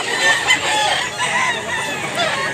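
Fighting roosters at a gamefowl gathering in Mantalungon, Cebu crow and cluck close by, overlapping calls running continuously and loudly.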